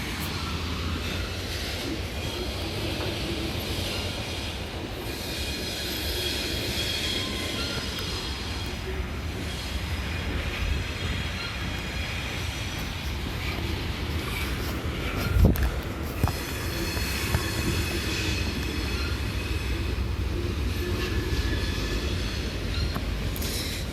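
A long CSX coal train rolls steadily past near Grafton, West Virginia, a loud continuous rumble of wheels and cars with brief metallic squeals and clanks, filling the whole stretch without pause.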